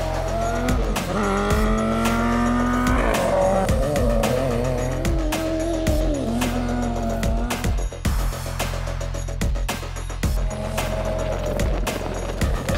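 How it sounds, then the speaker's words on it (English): A rear-drive race car is driven sideways on a mixed dirt and asphalt rallycross course, its loud engine revving and shifting continuously with gear changes while the tires squeal and skid throughout. "this is a car meant to be driven sideways"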